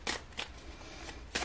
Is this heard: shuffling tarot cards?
yes